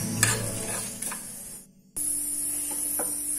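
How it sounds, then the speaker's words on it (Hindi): Coriander and other spices dry-roasting in a pan for Himachali khatta meetha kaddu, a dry hiss with rattling stirring and a few scrape accents, cut by a brief near-silent gap partway through. "इन सभी चीजों को हम हल्का सा भून लेंगे।"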